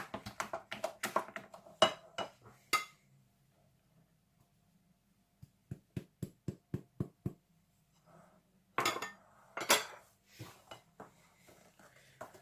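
A utensil clinks and scrapes against a bowl while softened butter and icing sugar are mixed for an orange cake, with quick rhythmic taps in clusters separated by quiet pauses, close and clear.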